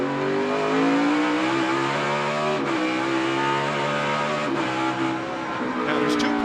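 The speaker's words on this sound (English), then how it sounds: "Listen to this brake zone. See, he just taps that throttle." A NASCAR Cup car at Sonoma Raceway roars loudly and steadily through a braking zone, with brief throttle blips and a straight-cut gearbox whine, while a voice talks over the engine.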